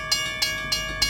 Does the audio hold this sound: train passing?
yes